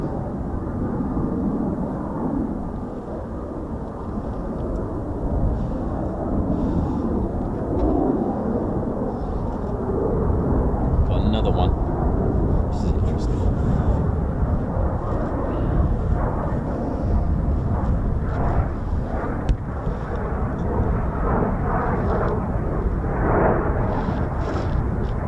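An F-35B jet on the runway, heard as a loud, steady, broadband roar that holds for the full stretch with a slight swell partway through and no speech.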